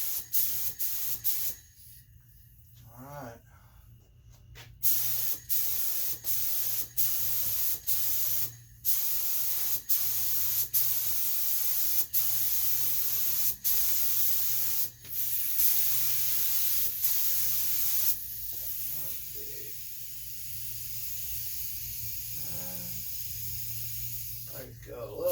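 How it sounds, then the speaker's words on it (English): A spray gun laying clear coat on a boat sounds in a string of short hissing bursts, then one long sustained spray, close and loud, with a brief spoken word in between. "Spray a little bit over here first."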